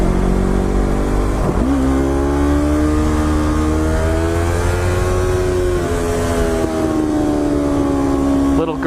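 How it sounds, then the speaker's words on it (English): Yamaha R3 motorcycle engine running loud and close, its exhaust giving a low gurgling burble as revs dip and steady, with strong harmonic drone throughout and heavy wind rush. "Little gurgle from the exhaust on that."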